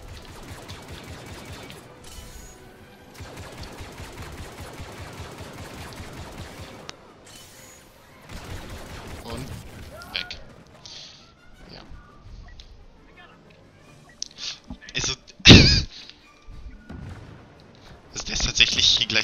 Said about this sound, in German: Ich schieße natürlich mit drauf.